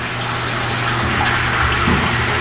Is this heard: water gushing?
yes